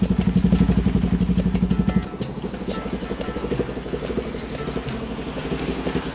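A neglected Motorstar Cafe 400 motorcycle engine idles with a heavy low throb and strong vibration, then settles into a lighter running rhythm with a loose, newly developed metallic rattle clattering over it.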